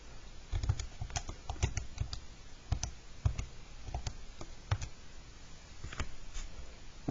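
Computer keyboard typing during a math graphing lesson on square roots and inverses, with irregular bursts of key clicks, close and moderately loud, no voice over them.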